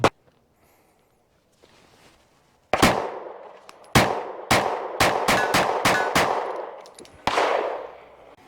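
Walther PPS M2 pistol fired outdoors, a series of sharp, loud shots with ringing decay, one isolated report and then a quick string of shots at an uneven pace, with a last shot after a pause.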